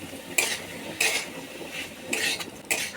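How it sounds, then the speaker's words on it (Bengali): Red amaranth greens with peanut powder are stirred in a pan, a spoon scraping and clattering against the metal in four or five brisk strokes over a faint sizzle. "সমস্ত শাকের মধ্যে বাদাম গুঁড়োটা মিশিয়ে নেব।"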